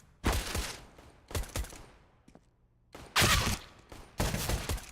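Gunfire trading back and forth in a competitive multiplayer shooter match, several loud bursts of shots in quick clusters separated by brief quieter gaps.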